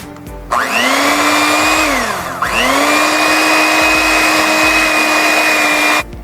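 An electric mixer whirs loudly while mixing ricotta cookie dough made with homemade ricotta, running steadily for about five seconds with a brief dip in speed partway through, then cutting off.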